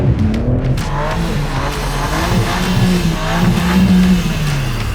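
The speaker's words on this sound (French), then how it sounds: "Je suis en burn sur place, mais elle a tellement de chevaux que tu peux faire ça sur la route." A carbon-bodied BMW M4 tuned to 1000 hp does a stationary burnout, its engine roaring loud and close with rising and falling revs while the tires squeal and scrub continuously.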